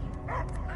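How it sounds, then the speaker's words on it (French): A dog barks and yips in a short burst, loud and close, over heavy background noise. "Et j'entends que des aboiements!"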